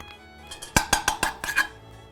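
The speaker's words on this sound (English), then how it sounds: "Today, we're going to put them in our Dutch oven. A little bit of schmaltz in here." Metal clatter of food pieces set into a Dutch oven greased with schmaltz, during a historical cooking demonstration: a quick series of six or so sharp clinks and knocks, fairly close, with no talking.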